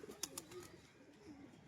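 An old domestic pigeon coos softly in a low, rolling warble, faint and close, with a couple of brief sharp clicks near the start.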